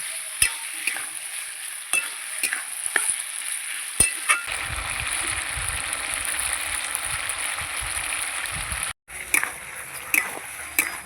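Chicken stomach sautés in spices in a pan, giving a steady sizzle broken by sharp scrapes and clacks of stirring, with a thicker bubbling fry rising partway through and a brief pause near the end.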